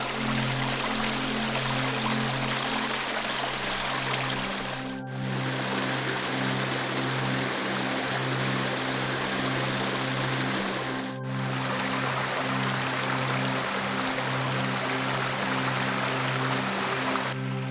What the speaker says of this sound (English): Brook continues down there.